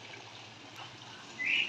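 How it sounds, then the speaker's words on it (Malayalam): Water trickling steadily into a garden pond during rain, a soft continuous wash with a slightly louder splash near the end. "കുളത്തിലിങ്ങനെ വെള്ളം വീണുകൊണ്ടേ ഇരിക്കുന്നു"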